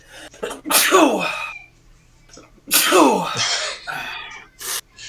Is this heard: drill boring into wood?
no